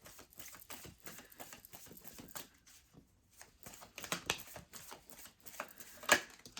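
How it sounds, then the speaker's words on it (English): Tarot cards are shuffled outdoors by hand in quick, irregular riffling and pattering bursts, close and moderately quiet, with a brief pause partway through and a sharper slap near the end. "we'll shuffle up the cards here"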